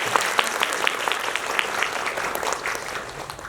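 Cinema audience at a film talk event applauding an actress, steady dense clapping from a large crowd, even and sustained with a few sharper individual claps standing out.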